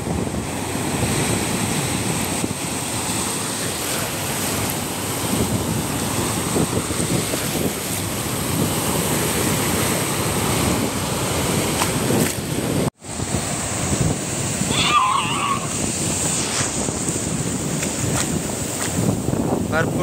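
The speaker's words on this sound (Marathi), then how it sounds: "हा बघा अजून दोन लाटा येतात." Waves surge and break continuously on the shore at Diveagar Beach on the Konkan coast, loud and close with heavy wind buffeting the microphone; a brief dropout interrupts the roar partway through.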